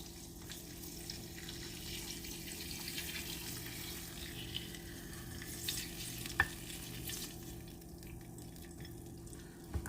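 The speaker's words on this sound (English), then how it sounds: "I'm going to finish this off with a fried egg here." An egg frying in a pan for spicy ramen, a quiet, steady sizzle and crackle at close range with an occasional faint click.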